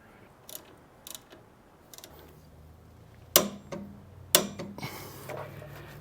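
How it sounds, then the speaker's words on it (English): A 3/8 drive torque wrench tightening a bolt to 40 foot-pounds on a frame-mounted motorcycle footboard: a few quiet ratchet ticks, then two sharp, close metallic clicks with short rattles after, and no talking. "this is a little 3/8 drive torque wrench, and I'm gonna crank it up to about 40 foot-pounds per the instructions"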